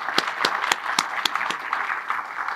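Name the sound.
audience applause for honorees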